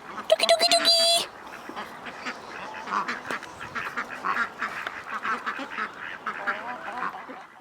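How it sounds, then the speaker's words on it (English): Chickens and ducks kept together in a garden, with a burst of calls and quacks at the start followed by steady clucking and scattered squawks from the flock, nearby and moderately loud. "a little bit of video of the chickens and the ducks all in together"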